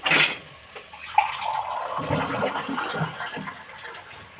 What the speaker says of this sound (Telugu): 1 గ్లాసు వాటర్ పోసుకోవాలి.